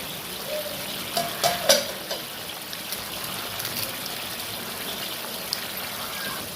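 Mushroom curry bubbling and simmering in a pan, a steady close wet sizzle with a few louder pops and gurgles near the start.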